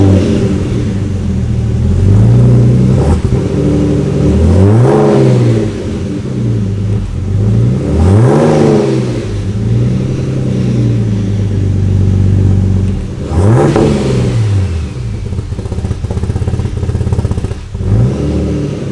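A Ford EF Barra inline-six revs repeatedly through a newly finished exhaust with no extra muffler, loud and close, its note swelling and falling in a series of throttle blips over a steady idle.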